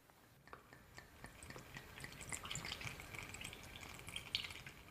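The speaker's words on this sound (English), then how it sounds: "Open up a bottle of white wine vinegar, get a funnel, and pour the vinegar in." White wine vinegar poured through a funnel into a bottle, a faint, continuous trickle with scattered small drips and splashes that grow slightly fuller as it fills.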